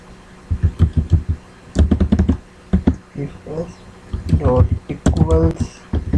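Quick bursts of computer keyboard clicks as code is typed, loud and close at first, then someone talks over sparser keystrokes.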